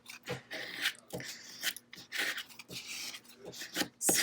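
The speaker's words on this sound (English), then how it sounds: "scrape it down, make sure it's on there good" Transfer tape being scraped down onto craft vinyl cut with a Cricut, a series of close, rasping rub strokes repeated in an uneven rhythm with short pauses between passes.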